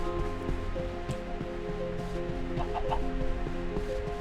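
Chickens clucking in a Minecraft game world, several short clucks scattered over a low steady ambient hum, moderately near and fairly quiet.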